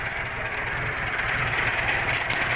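A 1996 Volkswagen Golf 3 engine idles steadily with a low, even mechanical hum and faint vibration, heard up close with no talk over it.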